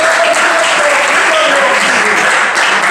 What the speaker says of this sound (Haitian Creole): On nous applaudit encore.